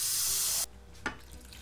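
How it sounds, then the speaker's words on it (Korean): Water pours in a loud, rushing stream into a pot of soybean paste soup, stops abruptly, and then a single short splash follows in a quiet kitchen. "자, 이제 물을 충분히 넣어줄게요."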